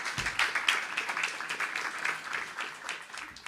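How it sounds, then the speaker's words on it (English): Audience applause at a home insurance town hall, moderately distant and fairly quiet, a continuous patter of many hands clapping throughout. "Let's give them a round of applause."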